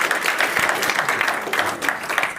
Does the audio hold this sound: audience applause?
yes